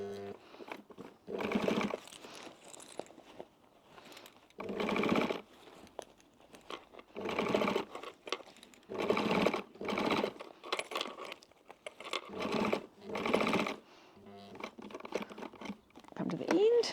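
A 70-year-old Pfaff sewing machine runs in short, repeated bursts while stitching a wallet seam, with quiet gaps between runs and a person talking near the machine.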